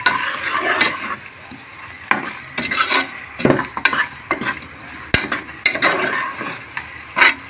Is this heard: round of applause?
no